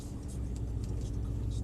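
Cars roll past at a driving experience with an AMG 63 and a GTR, a low steady engine rumble close by.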